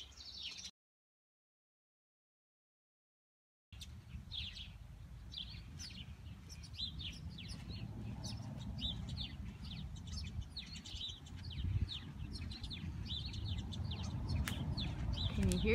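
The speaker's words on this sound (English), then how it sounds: "Hear the birds? I was gonna pause a little bit so you could hear the birds." Birds chirp and tweet repeatedly in a backyard rose garden, their calls moderately near over a steady low outdoor rumble, after a brief silent gap, with no talk.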